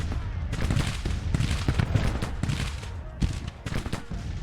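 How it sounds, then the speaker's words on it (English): Booming volleys of artillery and musket fire roll across a Civil War battlefield in Grand Tactician, a dense, rapid series of thuds and cracks at moderate loudness, with no talk over them. "And our artillery sounds like it's opening up now"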